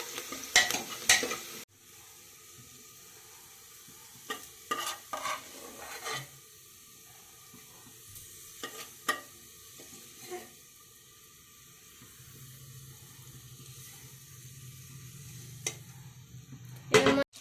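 Onions frying in hot oil for egg biryani, with repeated stirring scrapes and clinks over a steady sizzle; a low hiss swells near the end, with no talking.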